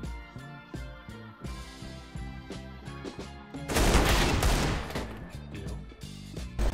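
Gunfire in a Counter-Strike match: a dense, loud burst of shots starts partway through and continues over steady game music.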